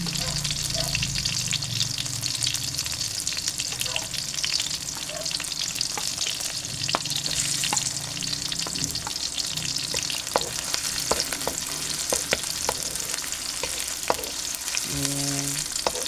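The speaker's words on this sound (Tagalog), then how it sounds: "Mag-isa tayo ng sibuyas sa mantika. Tapos, lutuin natin yan. Sunod na natin yung ating bawang." Onion and garlic sautéing in cooking oil for pork dinuguan, a steady close sizzle with scraping stirs and utensil clinks, and a brief voice partway through.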